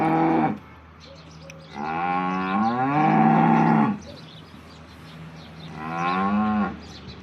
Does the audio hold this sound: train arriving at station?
no